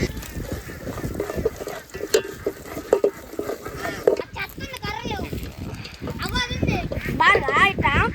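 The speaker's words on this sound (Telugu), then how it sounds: "ఉల్లిగడ్డలు బంగారం కలర్ వచ్చేదాకా వేపుకుందాం." Onions fry in a pan with a crackling sizzle and stirring scrapes, while a person talks over the cooking and other voices join toward the end.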